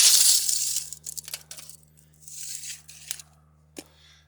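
A tape measure falls at a cabin build site, clattering and clinking in a burst of bright metallic knocks and rattles, followed by a couple of fainter taps against a low steady hum.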